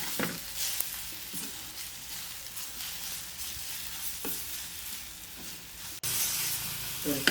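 A tomato mixture fries in a pan with a steady, close hiss, broken by occasional stirring scrapes and a sharp knock near the end.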